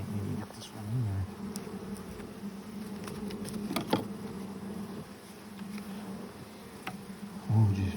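Honeybees buzzing around during a hive inspection, a continuous close drone with brief taps as bees strike a hat, and a voice briefly heard under the buzz.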